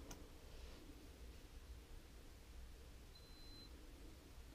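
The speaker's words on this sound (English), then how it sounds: "see it beeping." A BedJet V2 bed climate unit sounds one short, faint electronic beep as it powers on, set against a steady hum of fan and room noise.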